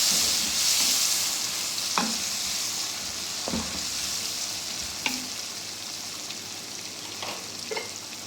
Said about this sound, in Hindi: अब इसको हम अच्छी तरह भून लेंगे।